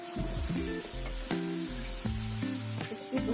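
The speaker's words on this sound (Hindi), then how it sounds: "इसमें मैं शामिल कर दूंगी 2 अदद बड़ी इलायची और इसको हम अच्छी तरह से भुनाई करेंगे" Cinnamon sticks and two black cardamom pods frying in a karahi for gosht, a steady sizzle under prominent background music with no talking.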